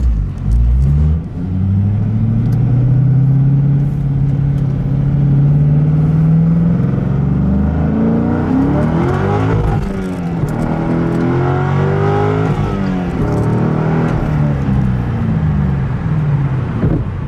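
A car with a quiet exhaust and newly installed motor mounts accelerates hard in a test pull, engine droning upward in pitch with a loud, steady rumble, easing off and climbing again partway through, no talk.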